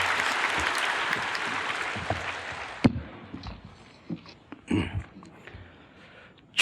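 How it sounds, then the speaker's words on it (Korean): A church congregation claps to welcome baptism candidates: a warm, full round of applause runs for a few seconds, then stops abruptly, leaving a quiet room with scattered shuffles and small knocks. "나오실 대로 박수로 환영하십시다"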